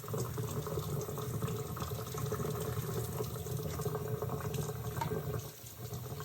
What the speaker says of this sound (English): wash my dishes as I go